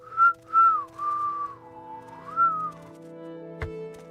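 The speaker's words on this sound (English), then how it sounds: "You can hear also all the variants of whistling." A character whistles a short melodic tune of rising and falling notes in the video game Morrowind, followed by a brief sharp click near the end.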